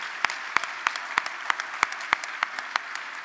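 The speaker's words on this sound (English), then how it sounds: "could you join us in giving a round of applause to the volunteers for their hard work?" An audience at an awards gala applauds the volunteers with a sustained, even patter of many hands, punctuated by a steady series of sharper individual claps, moderately loud and without talk.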